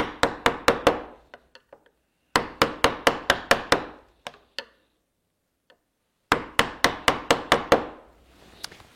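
Sharp mallet blows drive a wood chisel into a board to cut a mortise for a tenon joint, struck in three quick bursts of about six hits each with short pauses and a few light taps between.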